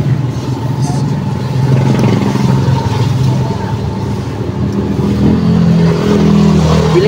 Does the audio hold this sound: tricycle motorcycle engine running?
yes